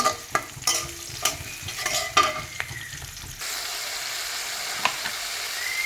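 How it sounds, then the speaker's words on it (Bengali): Chopped onion fries in oil in a pan, making a steady sizzle broken by repeated spatula scrapes and knocks early on, then a smoother, even hiss, close and without speech. "একটু পেঁয়াজ কুচি দিয়ে নিব। ভালোভাবে একটু ভেজে নেব।"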